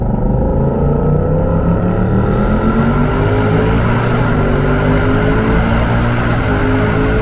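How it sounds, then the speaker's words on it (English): A 2024 Ford Mustang GT V8 in track mode roars steadily as it accelerates, its deep exhaust note climbing in pitch, loud and close throughout. "put it in track mode, listen to that exhaust"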